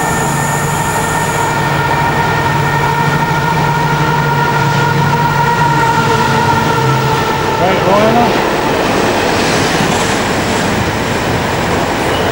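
Class 70 diesel locomotive 70008 hauling a container freight train, a steady loud rumble with sustained engine drone and rolling wagon noise running throughout, close by, with faint talk underneath.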